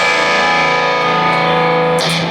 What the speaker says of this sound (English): A little more distortion now.